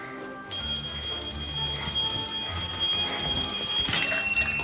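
An alarm clock rings during a timed escape-room challenge, a steady high electronic tone that starts abruptly and holds over busy background noise, with a second tone joining near the end.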